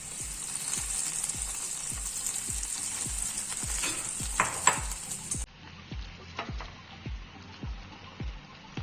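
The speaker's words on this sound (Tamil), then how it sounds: "இப்ப நம்ம பிரெட் எல்லாம் பொரிச்சு எடுத்துடலாம்." Bread slices fry in hot oil for shahi tukda, a steady bright sizzle with regular soft clinks of a utensil stirring in the pan, no talking over it.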